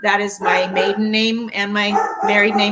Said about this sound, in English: And excuse the dog, sorry.